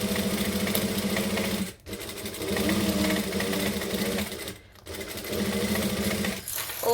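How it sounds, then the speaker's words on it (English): A sewing machine stitches a gusset for a saddle bag, its motor whirring in steady close runs that break off in two short pauses before starting up again; no talking. "I'm going to constantly be pushing this away towards the center so that I can sew where I want to sew"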